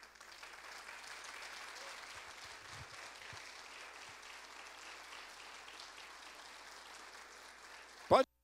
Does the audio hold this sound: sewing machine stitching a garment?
no